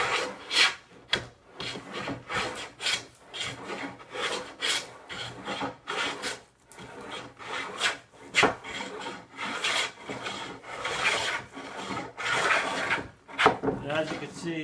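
Jointer hand plane rasping across a wooden tabletop in repeated long strokes, each pass a rough scraping swish, fairly close, with occasional speech between strokes.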